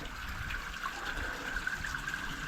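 Dirty water gushes and trickles out steadily during cleaning of a run-down house under repair, a continuous moderate wash of flow close by with no voices.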